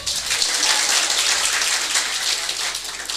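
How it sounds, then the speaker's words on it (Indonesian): Dense audience applause at a high school competition final, a steady, fairly loud wash of clapping from a crowd that holds at an even level throughout with no distinct voices. "Boleh tepuk tangannya sekali lagi buat LP3I."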